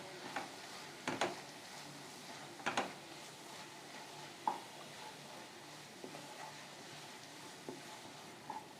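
A spoon scrapes and knocks against a pan as masala spices are stirred into a chapathi side dish, making several quiet, scattered clinks and taps over a soft, steady background hiss.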